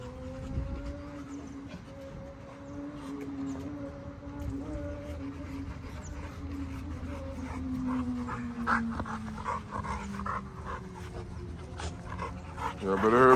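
Young XL pit bull dogs pant steadily throughout, with whimpers and a few sharp noises near the end, while a person talks over them outdoors.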